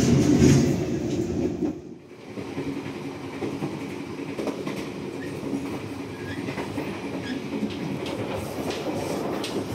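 An Airlangga economy-class train runs steadily on its rails, with a continuous rumbling roar from the wheels and a brief dip in loudness near the two-second mark before the rolling noise resumes, no voices.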